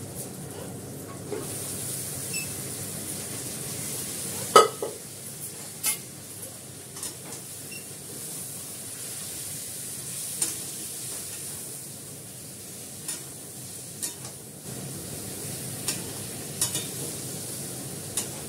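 Meat being added to potatoes fried with onion, ginger-garlic paste, dry red chillies and bay leaf, with the oil separating out, a low steady sizzle and stirring, and occasional scrapes and clinks of a utensil against the pan.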